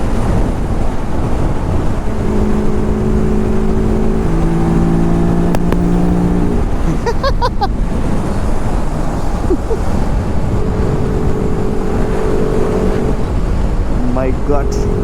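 A TVS Apache RR 310 BS4 motorcycle fitted with a K&N filter runs at top speed, loud constant engine roar and heavy wind buffeting throughout, with rising and falling engine tones and voices briefly heard.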